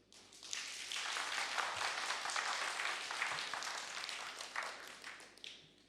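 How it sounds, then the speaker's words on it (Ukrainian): Studio audience on a TV talk show breaks into applause, a dense, sustained roar of many hands that swells quickly, holds steady for several seconds, then fades, heard from a slight distance. "Так, ваши аплодисменты."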